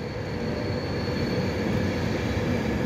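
An LNER Class 91 electric locomotive hauling Mark IV carriages departs London King's Cross, a loud continuous rumble of wheels and rolling stock passing close by without speech.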